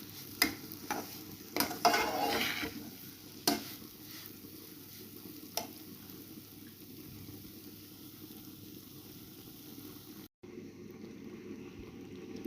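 Semolina dry-roasting in a pan for lauki halwa, with a few brisk scraping stir strokes in the first seconds, then a soft, steady low sizzle that briefly cuts out near the end.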